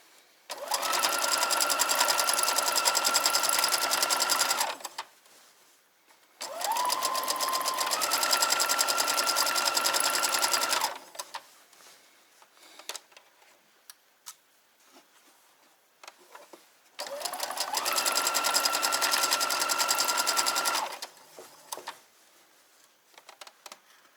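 A sewing machine stitches bed sheet fabric into shopping bags in three long runs of loud, steady, rapid whirring, with quiet handling noises in the pauses between them.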